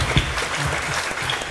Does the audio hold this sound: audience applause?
yes